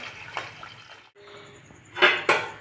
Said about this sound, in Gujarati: ગરમ પાણી કરેલું નાખી દઈશું